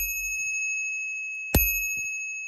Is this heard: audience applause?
no